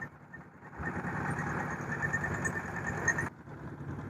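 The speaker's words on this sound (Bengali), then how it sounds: "আমাদের পাশ দিয়ে একটা নৌকা চলে যাচ্ছে দেখুন" A motorboat engine on the Brahmaputra river near Balashi Ghat in Gaibandha drones steadily and loudly as the boat passes close by, with broadband rumble rising and then dropping away near the end.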